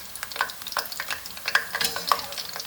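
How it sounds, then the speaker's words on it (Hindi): Besan boondi drops frying in hot oil, a bright crackling fizz with scattered pops and stirring sounds, close and moderately loud with no voices. "बस 1 से 2 मिनट 3 मिनट के लिए हमें इन्हें फ्राई करना है"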